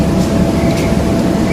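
Trains pull out of Ipswich station on the Great Eastern Main Line, a steady loud rumble of rolling stock that stays continuous and close throughout.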